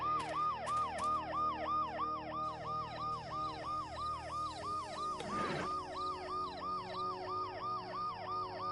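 In the video game Dead Synchronicity, an ambulance siren wails in a steady, fast up-and-down cycle, loud and continuous throughout, with a brief crash-like burst partway through.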